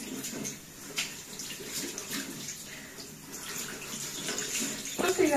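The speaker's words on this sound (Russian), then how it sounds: "А еще вода горячая идет." Hot water runs from a tap in a steady, moderately loud stream with a gushing, splashy texture, a few soft knocks and a brief louder splash near the end.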